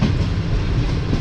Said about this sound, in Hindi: 4:17 पर हमारी ट्रेन जो है वो स्किप करने जा रही है शादराबाग जंक्शन रेलवे स्टेशन को